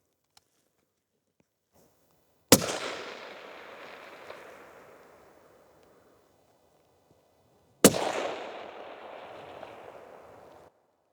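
Two sharp rifle shots from a 22 ARC at an outdoor shooting range ring out several seconds apart, each a loud crack followed by a long, fading echo.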